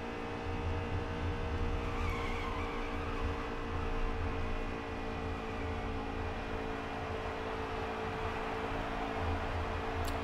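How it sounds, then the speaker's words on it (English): Tires squealing on a racing truck in NASCAR Heat 3 at Texas, a steady high tonal whine with a constant engine drone beneath, continuous and even throughout. "Tires are still squealing there, but no reason to lift in that corner right now."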